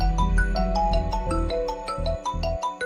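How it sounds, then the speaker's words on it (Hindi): A phone ringtone plays for an incoming call in a TV drama, a repeating melodic electronic pattern with a rhythmic beat, fairly loud and without talk. "सिला की कॉल आ रही है?"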